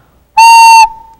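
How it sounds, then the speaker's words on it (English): A ceramic clay whistle shaped like a turtle is blown once, giving a single clear, steady, bright tone of about half a second that trails off into a faint ringing hum. "It's a whistle."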